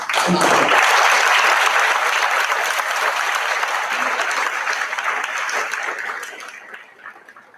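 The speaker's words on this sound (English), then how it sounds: "we could all now applaud the awesome potential of Sonia" An audience at a school athletics and senior awards ceremony breaks into loud, sustained applause for a scholarship recipient, the clapping dense at first and then thinning and fading over several seconds.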